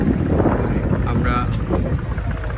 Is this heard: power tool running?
no